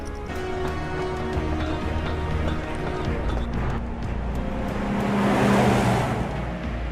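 A Shinra truck from the game Final Fantasy 7 Remake drives by with a steady engine rumble and road noise, swelling louder toward the end as it passes, amid background game ambience.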